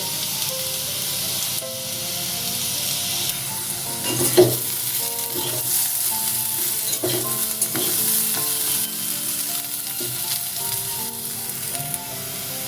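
Potatoes frying with poppy seeds and curry leaves in a pan, a steady loud sizzle with occasional stirring scrapes and clatters, close up and without speech.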